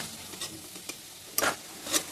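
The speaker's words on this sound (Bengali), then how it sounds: "আলুটা ভেজে তুলে নিচ্ছি" Potatoes fried in hot oil in a wok, with a steady soft sizzle and scraping stirs that come in short bursts, the loudest near the end.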